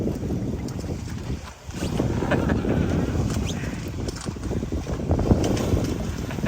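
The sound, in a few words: sailboat sailing in wind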